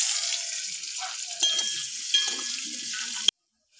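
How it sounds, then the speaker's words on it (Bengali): Potato pieces fry in hot oil with salt, a steady bright sizzle broken by a few louder spits and light stirring before it stops abruptly. "লবণ, দিয়ে আলুটা একটু ভেজে নেবো"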